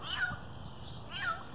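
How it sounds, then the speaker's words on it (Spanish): Cat in a garden giving two short, faint meows about a second apart under quiet outdoor background. "Hasta el gato apareció en el video."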